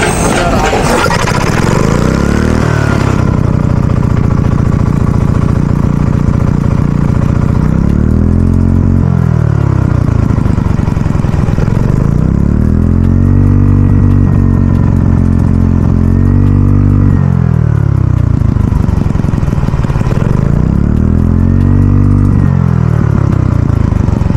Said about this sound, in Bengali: প্রথমে স্টার্ট দিয়ে দেখবো যে মেশিনটা মোটামুটি কত আরপিএম এ চলতেছে